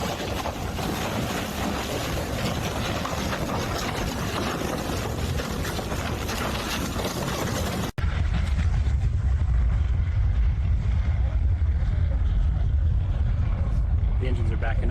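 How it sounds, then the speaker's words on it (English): The engines of a passenger ship run in reverse with a deep, heavy rumble and a wash of noise. Voices can be heard, and the sound changes abruptly partway through. "The engines are backing up now."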